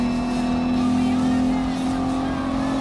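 A race car engine drones steadily and loudly in Gran Turismo Sport, holding a strong, even pitch while overtaking a Ferrari, with no break in the sound.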